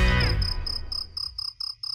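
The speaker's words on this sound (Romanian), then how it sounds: "Mă, greierele, mă, greierele de casă, era cu greieraș." A house cricket chirps in a regular series of short, high, piercing pulses, close and clear after a brief low rumble at the start.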